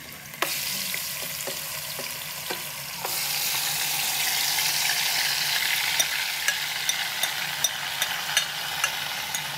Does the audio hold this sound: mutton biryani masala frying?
yes